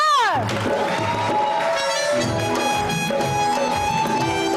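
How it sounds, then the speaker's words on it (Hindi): Studio audience cheering and applauding for a model's entrance on an entertainment show, loud and continuous crowd noise that rises suddenly out of a musical sting and carries on with music underneath. "आपकी बहुत सारी तालियों में साइमा अज़हर"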